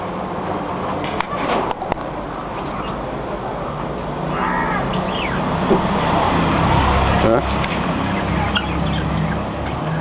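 Chickens cluck intermittently over a broad outdoor background with a low engine-like rumble, while people talk nearby.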